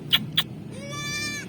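A goat on a rooftop farm with her newborn kids gives two short, sharp high cries, then one drawn-out wavering bleat, all close and clear.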